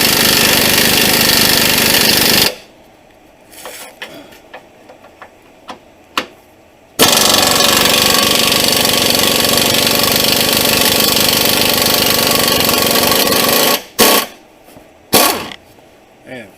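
Loud, continuous rattling hammering from an impact tool removing rusty 15mm bolts on the brace of a 2008 Ford Escape, in long bursts that stop abruptly, with short clanks and quiet gaps between the runs.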